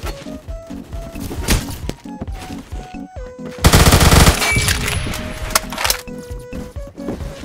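In the video game Phantom Forces, a gun fires in rapid bursts of shots, with a loud sustained volley midway, all close and punchy and accompanied by game tones.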